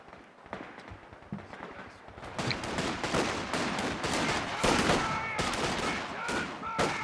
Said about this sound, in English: Machine gun in the building for Tomoclan as well.